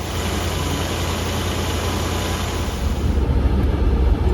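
A Range Rover Classic engine runs at a steady idle after a radiator replacement and coolant flush. The rumble is close and constant, with a slightly rougher, louder stretch near the end.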